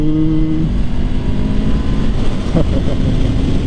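A Kawasaki Ninja 400 (400cc) motorcycle pulls hard uphill, its engine droning loud and steady under heavy wind roar, with a brief shift in pitch midway.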